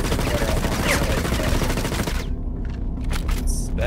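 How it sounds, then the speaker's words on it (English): Gunfire rings out in a Star Citizen battle royale match, a dense crackle of shots that cuts off partway, leaving a few sharp bursts over a quieter background. "I hear the shots"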